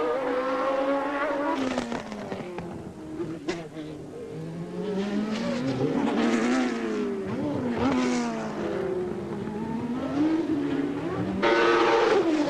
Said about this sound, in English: Johnny Herbert is now coming out of the pit lane in his Lotus